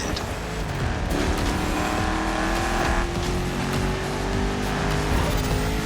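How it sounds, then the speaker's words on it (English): A 1969 Ford Mustang Boss 429 muscle car racing in The Crew Motorfest, its engine roaring loud and steady with rising gear pulls and tire squeal throughout. "You're driving my #1 car, the star of my collection, the 1969 Mustang Boss 429."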